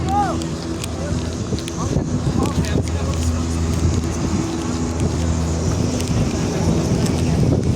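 Cold wind gusts steadily across the snowy summit of Mount Hermon, the highest point in Israel, buffeting the microphone with a continuous rushing roar while people talk throughout.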